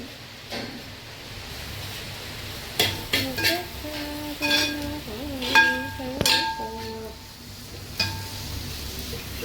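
Onion and ginger being stirred in a pan for duck curry, with scraping and clinking of a utensil against the pot over a low background, and a few brief voices in the kitchen.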